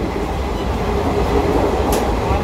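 Doon Express, travelling from Kolkata toward Haridwar, runs with a loud continuous rumble of carriages and wheels, heard close from inside, with a short sharp click near the end.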